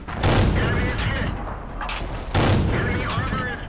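The gun of a Locust light tank fires in World of Tanks, two loud, booming shots about two seconds apart, each followed by a rumbling decay, with someone talking over the game sounds.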